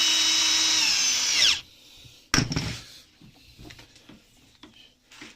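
A corded impact drill with a knocked-out piston, being tested in plain drilling mode after its gearbox oil was changed, whines loudly and steadily at close range for about a second and a half, then stops; a sharp clatter and quieter handling noises follow.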